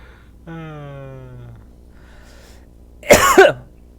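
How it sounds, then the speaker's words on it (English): A person in a Sonic Omniverse game live stream gives a sharp, close double cough near the end, after a quieter gliding tonal sound. "Was that you that just coughed"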